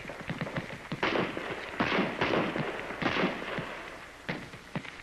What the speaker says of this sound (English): At last, you're ready for practice firing on the big range.